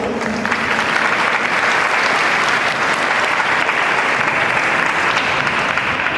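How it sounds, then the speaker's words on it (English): Sustained, dense audience applause after a school concert performance, loud and even from start to finish with no break. "Let's give them another big round of applause."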